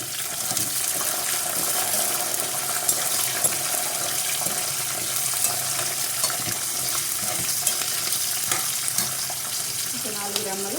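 Green chillies and dry red chillies fry in oil with curry leaves for mango pulihora, giving a steady, close sizzle and crackle throughout, with faint stirring and a brief tap-like sound near the end.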